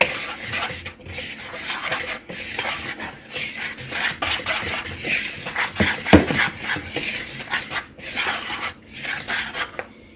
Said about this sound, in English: So let's whisk these dry ingredients together